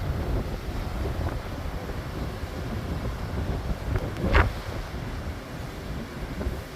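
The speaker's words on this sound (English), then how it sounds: "Like I said, I'm using this tree as shelter. A block from the wind." Steady wind blowing outdoors on the shore of a frozen lake bay in cold weather, a continuous broadband rush with a brief stronger gust midway, heard alone without speech.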